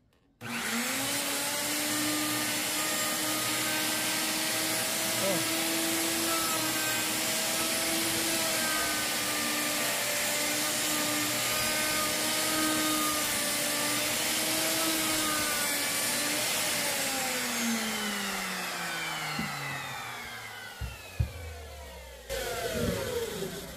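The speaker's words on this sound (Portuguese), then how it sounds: "É uma fresa que tem quatro navalhas, então ela trabalha bem mais suave" A wood router with a four-flute bit cuts wood in a loud, steady high-pitched whine that holds for about seventeen seconds, then winds down as the motor slows, followed by a few knocks.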